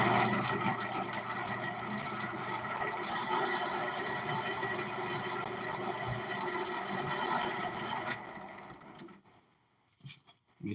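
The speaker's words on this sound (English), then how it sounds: "Now we're drilling a nozzle." A power drill bores a nozzle into a homemade firework packed with clay and powder, a steady whining motor hum with a fine grinding texture for about eight seconds before it winds down and stops.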